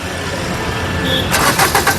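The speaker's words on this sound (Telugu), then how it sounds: "సింగిల్ సెల్ఫ్లో కార్ స్టార్ట్ అవుతుంది" A 2019 Maruti Brezza VDI diesel engine cranks and catches, starting up from a quiet background and settling into a running idle with a few uneven surges.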